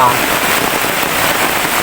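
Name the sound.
heavy rain falling in a forest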